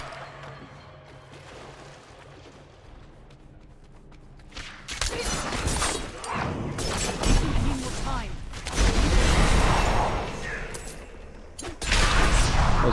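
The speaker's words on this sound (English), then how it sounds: "Cool, a double explosion because he's leveled." A double explosion in the video game Diablo 4: loud, dense booming bursts in two main waves with crackling debris, heard over steady game ambience.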